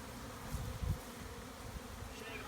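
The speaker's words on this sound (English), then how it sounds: "Sweet honeybees." Honeybees buzz around frames of honey, a soft, steady hum with a few closer passes near the middle, faint and with no voices.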